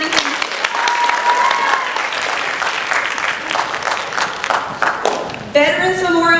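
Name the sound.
audience applause for the Newton County Theme School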